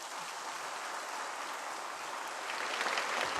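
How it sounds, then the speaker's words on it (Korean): A church congregation applauds to welcome a pastor to the pulpit for an evening service: a steady, dense wash of clapping that holds level and swells slightly toward the end. "여러분 뜨거운 박수로 맞이해 주시기 바랍니다."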